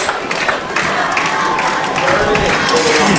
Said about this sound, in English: Marion crowd up on their feet. Cowbells are ringing.